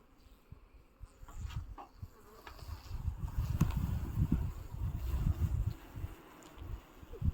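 A low, steady buzz of honey bees at a hive swells and hums for several seconds, many bees droning close by with a few brief rustles.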